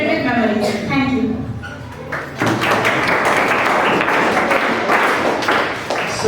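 Audience applause at a high school English workshop in Dharwad: dense, steady clapping fills the room for several seconds after a short stretch of speech, staying loud throughout.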